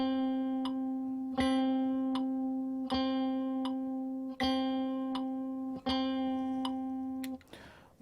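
A single guitar note repeats in long, evenly spaced strikes, each ringing out for two beats before the next, with a scrape of noise at the end.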